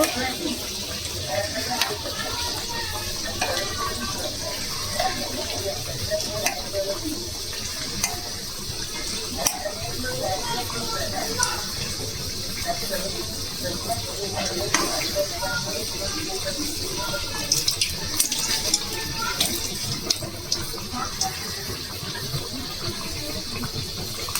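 Oil sizzles softly in a pan while bati gorom cooks, a low continuous frying hiss broken by occasional light clinks of stirring and scraping.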